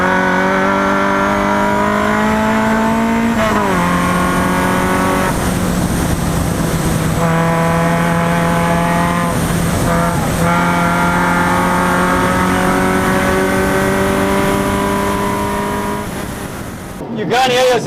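A modified car races hard around the BIC track, its engine roaring loud and close with sustained high revs and rising pitch through the gears, a few brief dips as it shifts or lifts, ending in a sudden cutoff.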